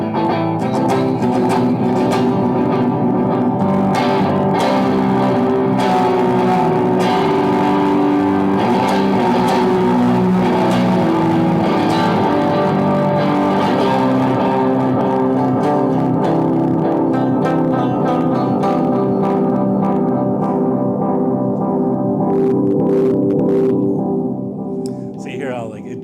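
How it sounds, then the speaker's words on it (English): An electric guitar runs through the tape delay of an Earthquaker Devices Silos pedal, giving a long, dense wash of strummed notes with murky, smeared repeats that hold steady throughout before thinning at the end. "This is what the tape delay sounds like."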